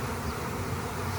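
Dense, steady buzzing from a swarm of honeybees being installed from a package into a hive, a continuous close drone with no talk.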